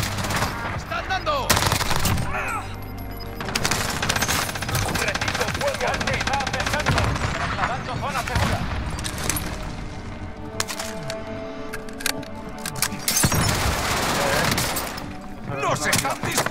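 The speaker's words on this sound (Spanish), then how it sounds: "¡Nos están disparando!" Call of Duty: Modern Warfare video game gunfire, frequent cracking shots and machine-gun bursts throughout, mixed with players talking excitedly over the action.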